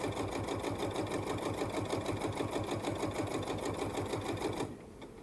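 A sewing machine stitches quilt seams in a fast, steady mechanical run, close and loud, stopping abruptly just before the end.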